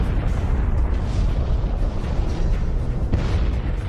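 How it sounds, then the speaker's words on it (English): A dense, continuous rumbling roar representing a Type II supernova explosion, heavy in the low end and steady in level for the whole stretch, with faint crackling texture and no voices. "While the explosion of a Type II supernova showers the universe with heavy elements"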